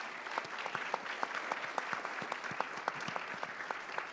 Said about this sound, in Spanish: por favor un aplauso para todos los expositores de hoy